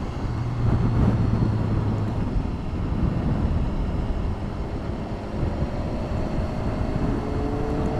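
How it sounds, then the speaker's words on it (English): Steady side wind buffeting a motorbike helmet microphone on a ride approaching a sharp bend before joining the A27, a continuous loud rushing roar mixed with engine drone, no speech. "Side wind there today."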